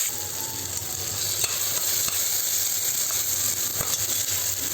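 Chicken gravy with tomatoes sizzles steadily in a pan while being stirred, a continuous bright frying hiss with faint scraping of the spoon.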